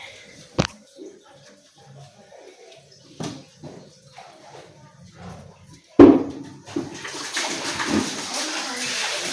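Water is filled at home: after quiet stretches with scattered soft knocks and a sharp thump, a steady rush of running water begins and continues to the end.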